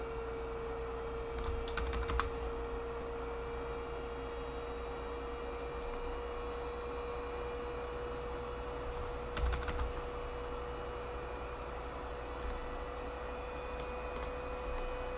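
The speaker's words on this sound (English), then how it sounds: "What you're hearing me triple clicking in the background is the number 1" Keys click on a computer keyboard during 3D sculpting, the number 1 key triple-clicked now and then. Short bursts of clicks come at a couple of points over a steady electrical hum, with no one talking.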